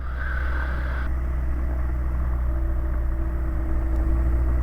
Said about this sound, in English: The engine revs are around about 1800 to 2000 engine revs, and the rotor is slowly picking up a little bit of speed now.